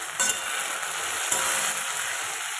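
Onions sizzle steadily in hot oil as ginger garlic paste is stirred in, a continuous close frying hiss with a couple of soft scraping stirs.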